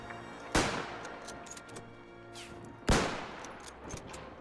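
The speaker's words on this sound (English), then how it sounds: "I think I can shoot through the thing," Two sharp, loud rifle gunshots in the WW1 game Between Empires, spaced over two seconds apart, each with a cracking report and echoing tail, plus fainter distant pops between them.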